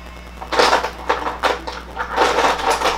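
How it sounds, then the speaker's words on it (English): A small child rummages through a drawer of lipsticks, making a string of close clattering and rattling knocks as plastic tubes shift and clink together. "My son is literally in my lipstick drawer."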